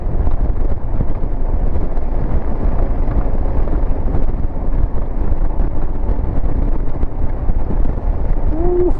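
Strong icy wind blasting across a high mountain road on the way to Ladakh, a loud continuous roaring rush buffeting the microphone for the whole stretch with no talk.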